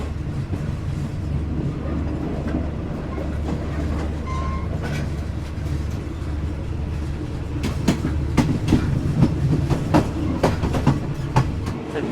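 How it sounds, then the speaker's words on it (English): Train in Thailand rattles along at low speed, heard from inside a carriage: a steady rumbling drone, then a run of sharp rhythmic clacks and clicks from the rails with an occasional brief squeak, fairly close and loud. "great railway squeaks and clicks, like clack, clack, clack, clack"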